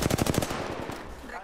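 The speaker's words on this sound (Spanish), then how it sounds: "Estoy recibiendo disparos." Rapid automatic gunfire from the shooter game Apex Legends sounds loud and close, a fast rattling burst fading into a noisy tail.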